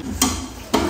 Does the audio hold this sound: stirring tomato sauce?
yes